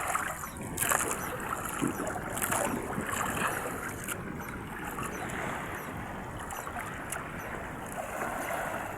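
Rough sea around a small fishing boat out alone at sea, with steady churning water and wind noise close by, continuous and moderately loud throughout, no voices.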